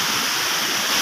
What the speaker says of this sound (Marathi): फायनली आपण येऊन पोचलो त्या वॉटरफॉल जवळ.